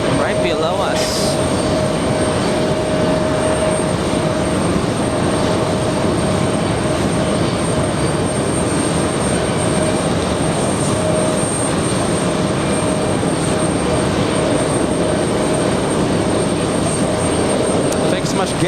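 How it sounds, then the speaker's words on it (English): JetBlue airliner pushing back at JFK airport, a constant dull jet engine rumble with a thin steady whine riding on top, while a voice talks over it. "We have a JetBlue right now pushing back right below us."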